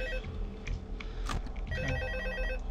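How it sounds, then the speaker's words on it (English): A continuous electronic telephone ring from the horror game Five Nights at Freddy's 2, steady and fairly loud, with repeating tonal bursts layered over a droning background hum, no talking. "I'm gonna be quiet so you guys can listen to the phone go"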